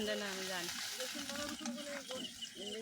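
Onion paste frying in a pan for an egg curry gives a steady broadband sizzle with occasional stirring scrapes, while a voice talks throughout over the cooking noise.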